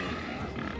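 Pigs in the video game Crowfall, giving a short burst of low, rough grunting, close and steady for under a second.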